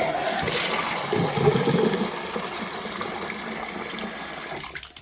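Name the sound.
container being filled with water to rinse it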